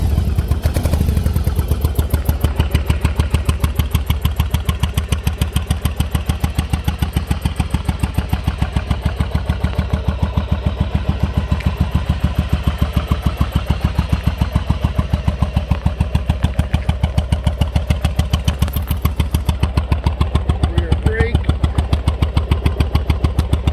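A 1996 Yamaha Virago 750 motorcycle idles after a cold start, its engine running with a steady, loud, close rhythmic chug that continues evenly throughout.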